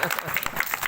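Brief burst of audience clapping at a Jyoti Kalash Rath Yatra religious gathering in Shukratal, Muzaffarnagar, with a crowd of hands patting steadily and a voice audible over it for about a second.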